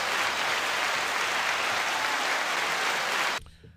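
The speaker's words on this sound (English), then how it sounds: "Clap it up." Steady, dense audience clapping fills the space at fairly close range, holding evenly for over three seconds before it cuts off abruptly into near silence.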